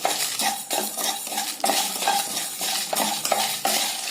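Whole spices and dried red chillies are dry-roasted in a pan, a spatula scraping and rattling them in a brisk, repeated stirring rhythm, loud and close with no voices.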